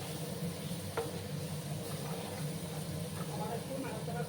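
Jackfruit seed curry with sesame sizzles softly in oil in a pan while being stirred, a steady low frying hiss with a few faint scraping clicks, fairly quiet and continuous.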